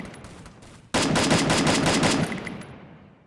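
In the Free Fire shooter game, a rapid burst of automatic gunfire erupts after a quieter stretch, a loud rattling string of shots lasting nearly two seconds before tailing off, with no voices.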